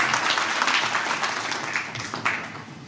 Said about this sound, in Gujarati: તો એકવાર પોતાના માટે જોરદાર તાળીઓ પાડશો.